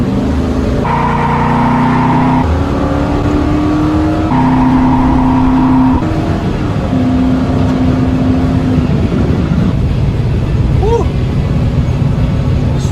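A 1966 Dodge Coronet with a HEMI engine revs hard while being driven, loud and close, its exhaust note stepping up and down through gear changes and throttle blips for the whole stretch.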